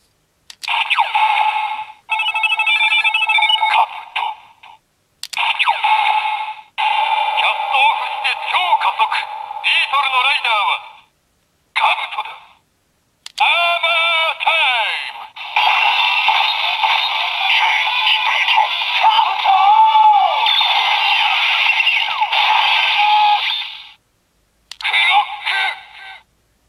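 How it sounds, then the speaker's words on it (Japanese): GP Ridewatch Kabuto gashapon toy, a Kamen Rider collectible, plays four electronic voice sounds and effects in bursts separated by short pauses, bright and loud, with no one talking over them. "横のボタンを押すと4つの音声が鳴ります。"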